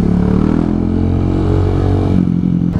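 A trail motorcycle churns through deep mud in a storm, its loud engine droning and revving close by, with clattering and scraping from the wheels and body throughout.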